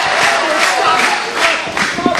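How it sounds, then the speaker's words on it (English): A wrestling crowd in Portland roars and cheers during an Eddie Kingston versus Sara Del Ray match, a loud, continuous swell of shouting voices that rises and falls in waves. "Crowd here in Portland on their feet."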